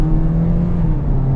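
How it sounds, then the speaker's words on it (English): A non-hybrid Toyota Corolla pulling away at half throttle, a steady, moderately loud engine drone heard from inside the car with no voices. "Giving it like half throttle, not even trying to floor it."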